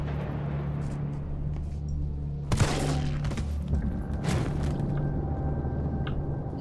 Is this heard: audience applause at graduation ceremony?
no